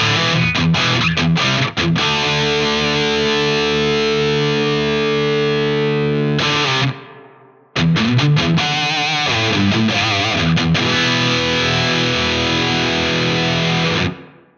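An electric guitar runs through a Line 6 Metallurgy dynamic hall reverb, with loud distorted chords ringing out in two long sustained phrases, each tail swelling and washing away into reverberation.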